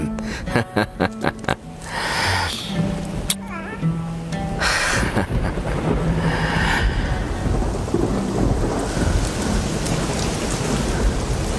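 Heavy rain pours steadily with thunder rumbling through it, filling the scene as a continuous broadband wash after a short stretch of voices at the start.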